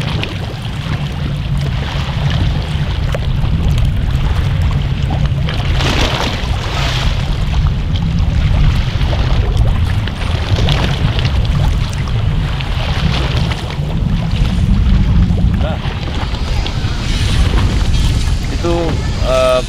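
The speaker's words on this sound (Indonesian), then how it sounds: "Karena kita pakai perahu kecil." A small motorboat's engine drones steadily at sea off Sumbawa, Indonesia, with wind and water noise throughout and a few louder surges.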